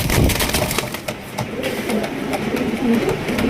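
Low, soft cooing of a local pigeon repeats close by against a busy background of rustling and knocks.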